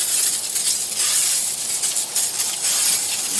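An aerosol can of engine degreaser hisses in bursts onto an engine, close by and fairly loud, with brief dips between pulses.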